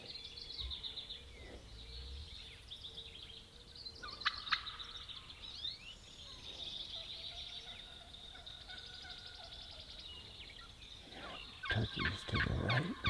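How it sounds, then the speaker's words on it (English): Wild turkeys gobble during a spring hunt in the woods, distant rolling calls repeating across a quiet outdoor background, with a louder, closer burst of gobbling near the end. "Turkeys to the right. Those turkeys."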